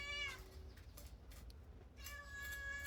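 A cat meows insistently close by while fish is being cut, two drawn-out cries, one at the start and one near the end, separated by quiet scraping and handling sounds.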